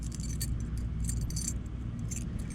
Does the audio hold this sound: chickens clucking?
no